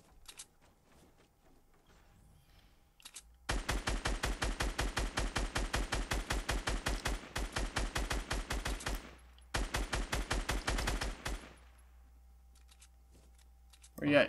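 Rapid automatic gunfire in the Fortnite battle royale video game, two long bursts of evenly spaced shots with a short pause between them, loud and close, ending in quiet.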